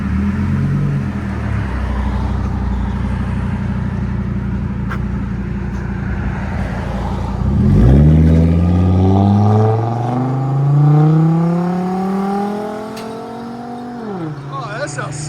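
A 2011 Chevy Colorado with a 3.7L five-cylinder engine and straight-pipe exhaust idles with a deep rumble, then revs up in several rising, loud sweeps close by, with a voice talking over the idle.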